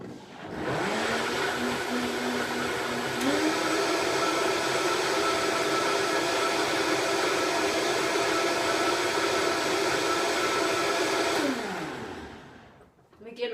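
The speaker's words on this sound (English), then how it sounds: "so I'm going to blend that up again" A blender whirs steadily while blending a turmeric maca chocolate smoothie with chia or flax seeds, its motor shifting pitch slightly before winding down at the end, loud and close.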